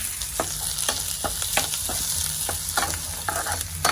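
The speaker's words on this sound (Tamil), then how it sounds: "இங்கால வந்து வெங்காயம் நல்லா வதங்கி கொண்டு வருது" Onions sauté in a hot pan, sending up a continuous moderate sizzle punctuated by repeated sharp scrapes and taps of stirring.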